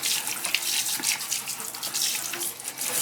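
Water runs steadily from a kitchen sink faucet while a pan is rinsed, a continuous close splashing hiss with slight fluctuations and no talking.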